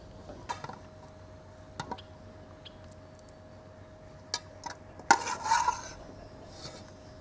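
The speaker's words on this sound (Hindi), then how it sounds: "अब सिर्फ़ और सिर्फ इसको घोटना है।" Beef haleem with korma masala being stirred and mashed in a pot, heard as soft scraping strokes with sharper clinks of a spoon against the pot around the middle and end, fairly quiet, no talk.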